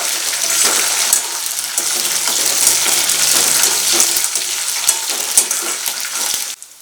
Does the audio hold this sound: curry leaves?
yes